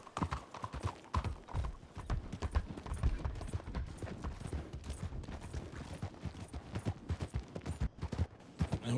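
Horse hooves clip-clop steadily in a video game roleplay, a brisk, continuous run of close, sharp hoofbeats that fills the whole stretch with no talk over it.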